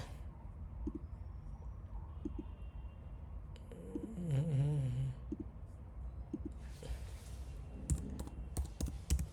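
Light, sparse typing on a computer keyboard is heard as scattered soft clicks under a quiet room tone, with a brief cooing bird in the background partway through and a faster burst of keystrokes near the end.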